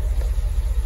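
A 2014 Cadillac Escalade exhaust at idle, a close low rumbling burble with a steady pulsing throb and no voices.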